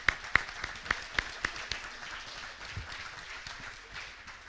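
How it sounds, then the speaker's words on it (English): Student athletes applaud at a high school sports awards ceremony at Woodland Hills High School: a few sharp, loud claps ring out early, then softer scattered clapping with room murmur carries on at a moderate distance. "Give yourself a round of applause."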